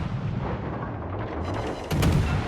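Heavy naval gunfire in World of Warships Legends, with low rumbling battle noise and then a booming salvo near the end.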